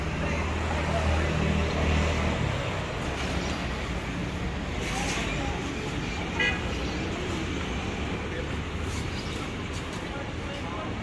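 Busy highway traffic roars in a constant wash of road noise, with car horns tooting now and then over the rumble.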